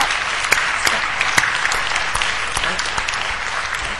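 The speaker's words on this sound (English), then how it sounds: "Jennifer really deserves a round of applause" An audience at a lecture applauds in a sustained round of clapping with a few sharper individual claps standing out, fairly close and steady.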